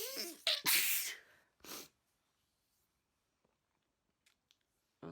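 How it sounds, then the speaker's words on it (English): A person lets out a loud, close sneeze after a sharp breathy build-up, followed by a short snort, then near silence with only faint small noises. "There's a sneeze coming."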